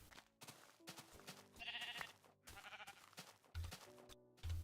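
Sheep in the video game Minecraft bleat several times in short wavering calls, separated by gaps, with soft game thuds in between.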